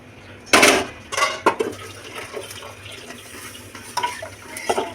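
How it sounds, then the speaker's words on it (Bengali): Hot water splashes into cooked dal in a pot, a few sharp pouring bursts with light clinks of metal, close by and without speech. "পানি গরম হয়ে গেছে, এবার পানিটা দিয়ে দেবো ডালে।"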